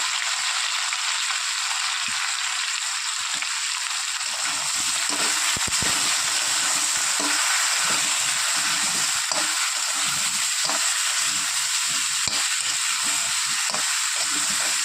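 Small fish sizzling steadily in hot oil in a pan with turmeric powder and salt added, a continuous loud crackling hiss with occasional stirring scrapes, no talk.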